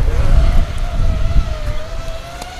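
ZMR 180 carbon FPV quadcopter motors under heavy throttle, a high sustained whine that wavers in pitch over low wind rumble and buffeting, with occasional brief clicks.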